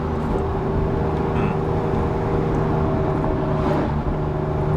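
Steady engine drone from an Alfa Romeo Giulia Quadrifoglio cruising through a neighborhood, a constant low hum with road noise and no clear revving.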